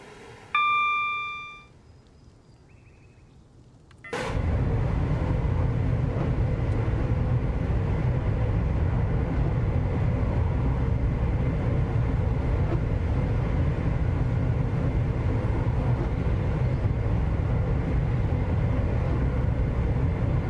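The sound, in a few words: train running in England, Train Sim World 5 video game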